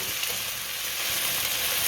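A rava and potato mixture with mustard seeds and spices being stirred in a hot pan, a steady close sizzle with soft scraping throughout.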